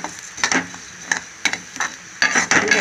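Coconut rice and seasoning fry in ghee in a pan, with soft crackling sizzle under a run of scraping, stirring strokes that come in irregular bursts, close and fairly quiet, with no voices.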